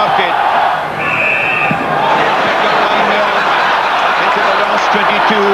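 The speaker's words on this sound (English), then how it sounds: "the crowd are singing, "Eh-oh, sweet chariot."" A big rugby crowd sings Swing Low, Sweet Chariot in a loud, steady massed chant, with a commentator's voice over it.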